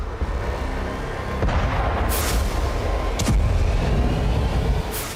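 Distant explosions from drone strikes on Russian oil facilities boom over a constant rumbling background, with a few sharp bursts spaced seconds apart.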